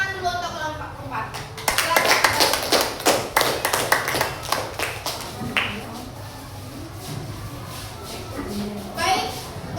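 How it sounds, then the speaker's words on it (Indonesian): Classroom applause for a student presentation group, with many hands clapping in a dense, uneven burst over several seconds. Children's voices and shuffling continue underneath. "tepuk tangan dulu untuk kelompok 4"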